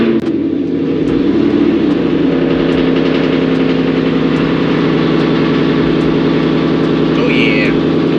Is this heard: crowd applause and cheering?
no